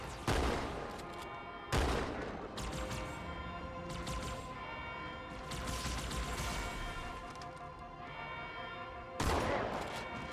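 Shotgun blasts and grenade explosions ring out in Halo 2 on Cairo Station at Legendary difficulty, several sharp loud booms spaced seconds apart over a continuous rattle of gunfire and battle noise.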